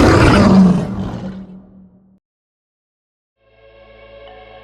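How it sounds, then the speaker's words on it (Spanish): A loud dinosaur roar effect from a Jurassic Park audio drama bursts out and fades over about two seconds, followed by silence and then faint sustained tones. "justo cuando dio su rugido más fuerte"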